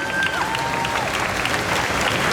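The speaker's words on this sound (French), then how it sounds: "je vous demande encore une fois, s'il vous plaît, de les applaudir bien fort" Audience at a cosplay contest at TGS Toulouse 2022 applauding steadily, a dense even wash of clapping from a sizable crowd, fairly loud and continuous with a faint whistle-like tone over it.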